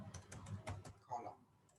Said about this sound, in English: Press and hold on the control key on the keyboard.